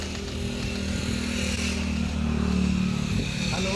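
A dense, continuous roar of many motorcycle engines passing on an expressway, a low rumbling drone with a gritty mechanical rasp that swells slightly toward the end, with no talking.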